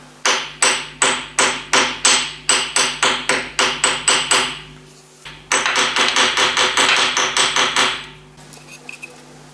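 A hammer taps a rivet into place with about fifteen sharp, evenly spaced metallic knocks, then a fast, continuous flurry of lighter blows. The strikes are close and loud and there is no talk.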